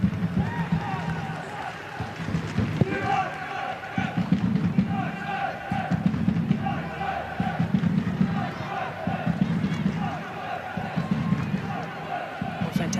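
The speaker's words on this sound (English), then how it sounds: "Fantastic Adelaide home crowd." Adelaide United home crowd at Coopers Stadium during an A-League football match against Western Sydney Wanderers: a steady, loud roar of the stadium throughout, with a rhythmic surge of chanting and rising noise.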